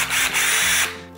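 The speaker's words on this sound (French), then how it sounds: "faut que je fasse un trou dans mon cadre de porte. Fait que j'ai sorti ma perceuse" A cordless drill bores a hole into a wooden door frame: a close, loud whirring burst that holds steady for about a second and then winds down, with no speech.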